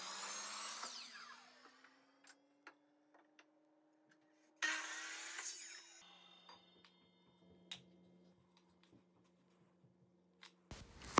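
A miter saw spins up and cuts wood strips for hexagon shelves, its motor whining as blades bite in two loud cutting bursts, with quiet clicks and handling taps between the cuts.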